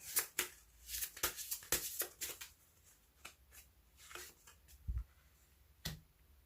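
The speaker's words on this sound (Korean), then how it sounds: "그럼 조언점 카드 하나 더 뽑아보도록 할게요." Advice cards are shuffled and drawn by hand in a tarot-style reading. Crisp slaps and riffles of card stock come in quick bursts, then lighter isolated flicks and one soft thump, close and quiet, with no talking.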